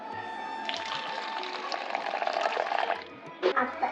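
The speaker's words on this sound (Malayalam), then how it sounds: "ഇനി നമുക്ക് ചൂടുവെള്ളം ഒഴിക്കാം" Hot water poured into a cup over milk powder and sugar to make milk, a steady splashing pour that rises in pitch as it fills, with a few brief knocks and drips near the end.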